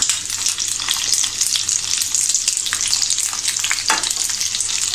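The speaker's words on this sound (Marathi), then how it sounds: "आणि आपल्याला मध्यम गॅसवर एका बाजूने आपल्याला हे छान असे फ्राय करून घ्यायचे आहेत" Stuffed capsicums fry in a pan over medium gas with a loud, constant sizzle and crackle, close up and unbroken, with a faint scrape partway through and no voices.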